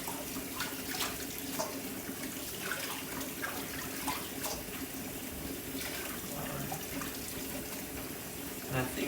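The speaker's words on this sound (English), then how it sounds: "it's always a good idea to start out with everything with a nice wash" Herbs are washed under a running kitchen tap, a steady close splashing of water throughout, with faint speech in the background.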